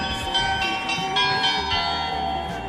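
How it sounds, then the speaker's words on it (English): A doorbell rings inside a home kitchen, with bright, sustained chime tones carrying steadily throughout and no one speaking. "That's the doorbell. That's why you hear it."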